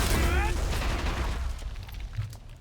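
Heavy explosions and a burst of rapid gunfire from the video game Men of War: Assault Squad 2 crash loudly together, then the rumble fades into quieter distant booms.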